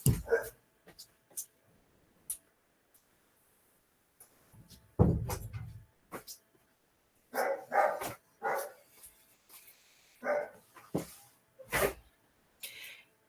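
Small dog barking behind a door indoors, scattered short barks and yips, muffled and fairly faint, between a woman's speech and the sound of the door closing.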